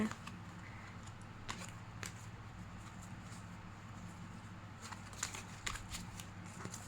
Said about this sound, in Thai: จะสับไพ่ค่ะ